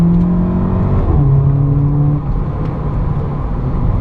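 Volkswagen Polo GTI (6C), a light hatchback, heard from inside as the engine revs and pulls in a steady loud drone, pitch climbing, easing off and rising again.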